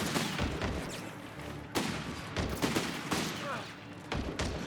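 Gunfire from a match of the strategy game Company of Heroes 3, a 30 cal machine gun trading fire with Panzer Pioneers, crackles in dense overlapping bursts with a few heavier thumps, all under steady commentary.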